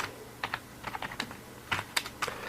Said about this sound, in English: I type git add.